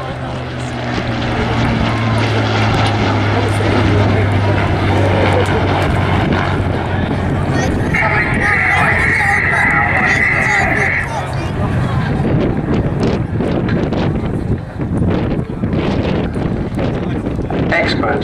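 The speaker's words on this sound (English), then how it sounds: "this amazing formation, Anarchy 1, the Typhoon, with the Spitfire from the Battle of Britain Memorial Flight" A Typhoon FGR4 jet and a Spitfire Mk Vb fly in formation at Southport Airshow, giving a loud, sustained engine roar with a steady propeller drone and rising jet noise, buffeted by wind over a public-address commentator talking.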